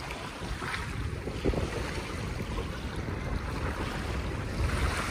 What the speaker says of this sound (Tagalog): Malakas ang hangin. Kaya pasensya naman po kung ang aking kuha ay medyo maingay.